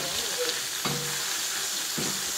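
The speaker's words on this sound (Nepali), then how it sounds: "मेरो बुढोले मासु पकाउँदैछ हो" Meat fries in a pan on a home kitchen stove, a loud, steady, close sizzle and hiss with a few soft bumps of stirring and no talk.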